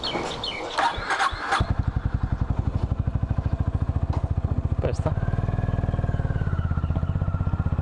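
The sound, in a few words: Honda Highness CB 350 motorcycle riding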